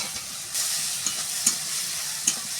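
Fried potato sizzles steadily in a pan of hot oil with a paste of cumin, coriander, ginger, chili, salt and turmeric, while a few sharp scrapes and taps of the stirring spoon cut through the close frying hiss.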